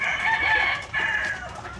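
White leghorn chickens on a farm, a rooster crowing loudly and close with hens clucking in two drawn-out bursts.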